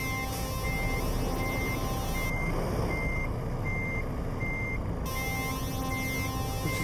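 A truck in Euro Truck Simulator 2 giving steady, evenly spaced reversing beeps, repeating throughout over a constant engine rumble, with no talk.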